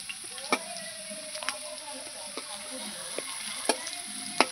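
Cumin seeds and a dried red chilli tempering in hot oil for a pomfret curry with potato and brinjal, giving a soft steady sizzle with scattered crisp pops and stirring clicks, close and moderately quiet.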